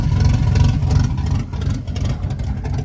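A 1974 Chevy Nova with a 350 small-block V8 idles with open headers, giving a loud, close, choppy rumble with an uneven lope and a slight rise in revs.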